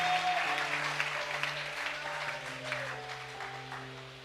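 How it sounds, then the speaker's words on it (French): A church congregation claps hands for the Lord during a worship service. The soft, scattered applause sits under sustained music and slowly fades away toward the end. "Clap your hands for the Lord."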